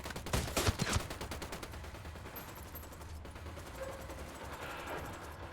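Video game gunfire with a loud burst of rapid shots near the start, then a steady crackle of distant firing and rumbling battle noise.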